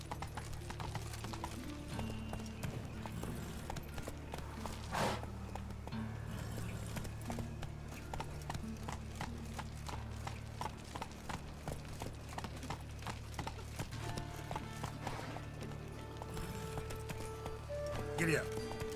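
Horse hooves clip-clopping at a run in the Witcher 3 video game, a steady close rhythm of hoofbeats with game music and voices talking over it throughout.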